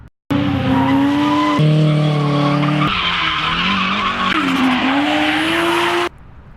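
A drift car slides with loud, continuous tire squeal and a revving engine that shifts pitch several times, close and sustained for about six seconds before cutting off abruptly.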